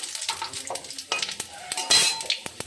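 Spices crackle and sizzle in hot oil for tempering in a home kitchen, with sharp spitting bursts, a louder flare near the middle and scattered utensil clinks.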